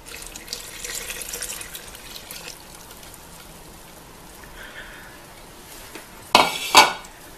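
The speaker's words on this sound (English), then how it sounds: "let's add the water to make the batter" Water pours softly into a bowl of bread batter with a gentle trickling wash, followed near the end by a couple of brief kitchen clinks.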